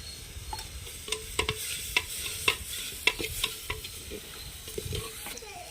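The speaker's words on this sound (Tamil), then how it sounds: "நல்லா வதங்கிச்சு பாருங்கள் வெங்காயம் தக்காளி போட்டோம் நல்லா வதங்கிடுச்சு" Onions and tomatoes sautéing in a pan for village-style sambar, a continuous sizzle broken by repeated sharp scrapes and knocks of a stirring spoon, close and fairly loud.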